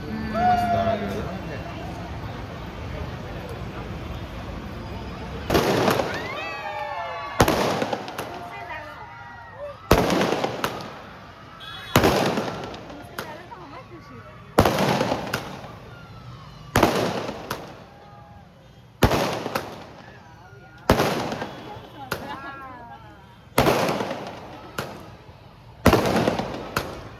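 Skyscraper fireworks burst in a rapid series of sharp cracks and booms, roughly a dozen loud reports spaced a second or two apart, with people chattering in between.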